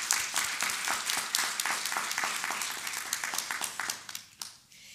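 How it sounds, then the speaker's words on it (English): A crowd at the 2018 National Night Out community awards ceremony applauds with dense, steady clapping that thins into a few scattered claps and fades out near the end. No one speaks over it. "Please join me in giving everyone involved a round of applause for their participation."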